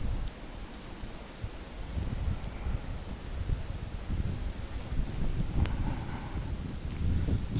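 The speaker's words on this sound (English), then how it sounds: "It's a little windy out here." Wind gusts through a 2016 Virginia blizzard, buffeting the microphone as a continuous low, rumbling roar with steady, uneven swells.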